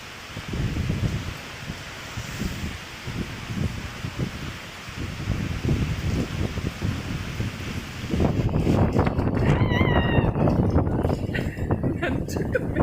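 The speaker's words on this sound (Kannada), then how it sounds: "ಒಳಗಡೆ ಬರ್ತಾ ಇದೆ ಮಳೆ." Heavy rain blowing indoors during a thunderstorm, a steady broadband wash of rain and wind that swells louder midway, with a person talking over it.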